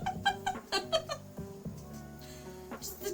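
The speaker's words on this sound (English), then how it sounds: "Cats everywhere." A cat meows several times in short, rising cries indoors, close and fairly loud, with softer household sounds and faint background noise between the calls.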